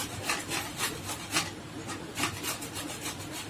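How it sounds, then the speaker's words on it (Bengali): Raw mango rubbed by hand against a grater for kasundi makes quiet, rhythmic scraping strokes, roughly three per second, close up and faint, with no talking. "ঘুরিয়ে ঘুরিয়ে ঘষে নেবো আমটা"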